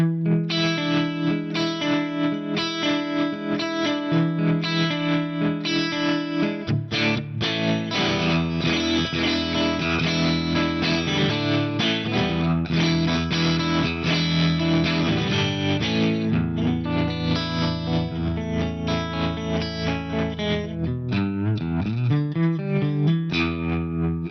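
An electric guitar plays chords and riffs through a pulsing optical tremolo effect, its volume throbbing rhythmically, with distortion and some bent notes near the end.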